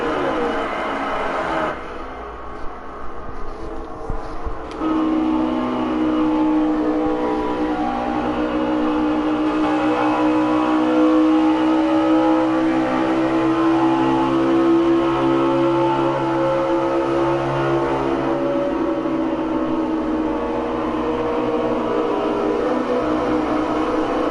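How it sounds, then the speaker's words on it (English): An Xfinity race car engine in a racing video game revs high and steady at Las Vegas, with a sustained harmonic drone that dips through brake and lift points before climbing again. "Let's let you hear his car and his brake and lift points"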